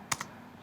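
Two quick keystrokes tapped on a computer keyboard, close and crisp, while entering a measurement, followed by a quiet room hum.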